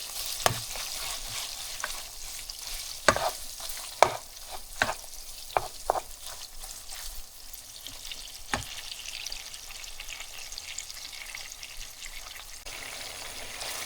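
Greasy 70/30 ground beef fries in a pan under a soft, steady sizzle, while sharp spatula scrapes and taps against the pan come at irregular intervals.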